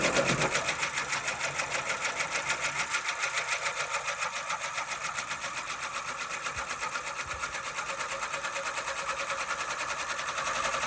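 An embroidery machine stitches a logo onto a sleeve with a rapid, even mechanical rhythm, loud and close, running steadily throughout with no talking.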